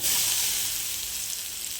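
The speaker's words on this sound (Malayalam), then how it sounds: "കടുക് പൊട്ടി വന്നിട്ടുണ്ട് നമ്മൾ അതിലേക്ക് അരച്ചു വെച്ചിരുന്ന അരപ്പ് ചേർത്ത് കൊടുക്കാം" Ground paste tipped into hot oil with spluttering mustard seeds while making mixed cheera thoran sets off a loud, steady sizzle that eases a little over a couple of seconds, with no voices.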